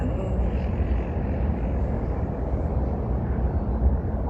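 An airplane passes overhead as a steady, low engine rumble, broad and constant throughout without rising or fading, heard alone with no voices.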